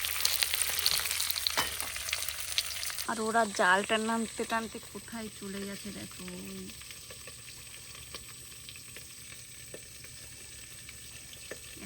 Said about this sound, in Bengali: এই হচ্ছে মাছের মাথাগুলো ভাজা হচ্ছে